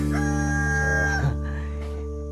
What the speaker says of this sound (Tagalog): wala kang ibang maririnig kundi ilaok ng manok